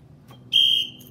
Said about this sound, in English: Next one will be a whistle.